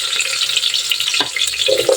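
Chicken liver and gizzards sizzling in hot oil in a pan, a loud, continuous crackling fry with a brief stirring clatter partway through.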